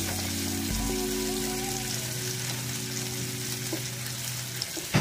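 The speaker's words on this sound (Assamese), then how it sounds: "এইখিনি ব্ৰাউন কালাৰ নোৱালৈকে ভাজিব লাগিব" Raw banana dish frying in hot oil, a soft steady sizzle with faint crackle and occasional small pops, heard close and fairly quiet, alone without any talk.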